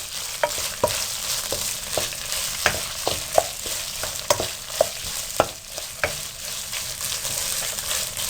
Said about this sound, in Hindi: चंद सेकंड के लिए इसको फ्राई करें